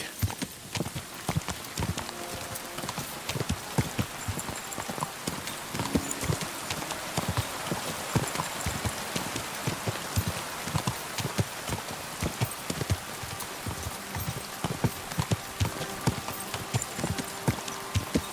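Horse hooves clip-clop steadily in Kingdom Come: Deliverance II, a brisk, continuous gait close up, with occasional louder thuds over a wide background hiss.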